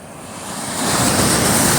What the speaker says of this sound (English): There's some waves rolling in